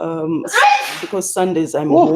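A person sneezes once, sharp and close, in the middle of a spoken discussion, with a voice talking before and after it.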